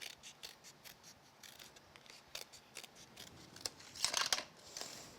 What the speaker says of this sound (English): I can just tip my scissors underneath that and work it around, taking off all the excess bits.